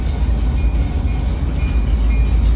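A Florida East Coast Railway switcher freight train working a steel plant siding, a loud steady rumble of rolling cars and engine close by, with no voices.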